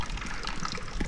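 A drinking water fountain trickles and splashes steadily, a close, continuous bubbling flow with no pauses.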